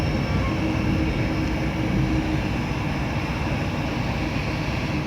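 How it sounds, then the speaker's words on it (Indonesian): The Gaya Baru Malam Selatan passenger train rumbles steadily close by as it arrives at Sepanjang station, Indonesia, a continuous low heavy roar with rolling mechanical noise throughout, no voices. "kereta api Gaya Baru Malam Selatan telah tiba dan berhenti di stasiun Sepanjang"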